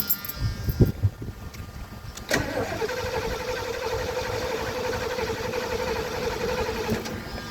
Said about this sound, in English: We're going to go ahead and try and start this car without priming the carburetor.